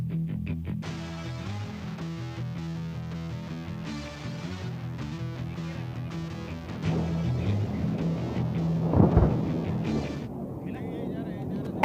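A single distant bomb blast from a Hawk jet airstrike at the Vayushakti 2024 air force firepower exercise booms briefly under loud music and commentary.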